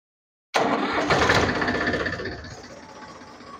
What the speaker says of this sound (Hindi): अभी ट्रैक्टर स्टार्ट करके हाइड्रोलिक देखेंगे।